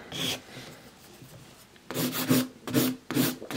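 A nail coated in gum gel is filed in short scratchy strokes: a single rasp, a pause, then three quick rubbing passes close by, with no talking.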